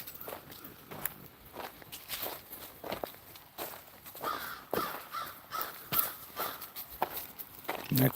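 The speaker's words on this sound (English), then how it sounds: "And that crow's right there." A crow caws repeatedly on a fall hike beside a low river, its calls mixed with close footsteps crunching along the trail.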